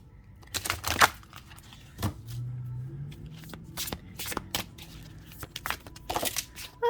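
A deck of oracle cards is shuffled by hand at close range, with crisp riffling bursts, soft slides and papery flicks in an irregular rhythm, alone without talk.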